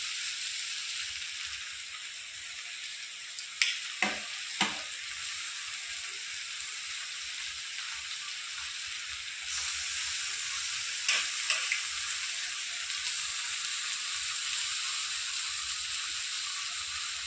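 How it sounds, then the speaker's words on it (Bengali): Amudi fish coated in salt and turmeric sizzles steadily in a hot pan, a constant bright frying hiss with a few sharp pops and crackles near the start and middle. "এবার দিয়ে দেবো নুন হলুদ মাখিয়ে রাখা মাছটা।"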